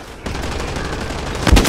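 Rapid gunfire from an online shooter game, Blacklight, a dense burst of repeated shots rattling steadily at close range before a heavier thump at the end.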